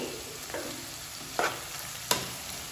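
A spoon stirs ivy gourd (tindora) fry in a pan, with a few distinct scraping strokes over a soft continuous sizzle.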